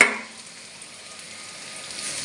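A splash of water from a rinsed spice bowl hits frying chicken masala in a hot pan, bursting into a loud sizzle that quickly settles into a quieter, steady frying hiss.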